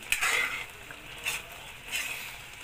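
A spoon stirs a thick ube mixture in a cooking pot, giving soft scraping strokes that swell in three separate bursts with quiet pauses between, close by and fairly faint, with no voices.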